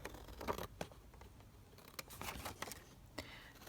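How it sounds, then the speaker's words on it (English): Scissors snipping paper to trim a window envelope book piece, a few quiet, scattered cuts heard close up in a still room. "now what I'm going to do is obviously cut this down"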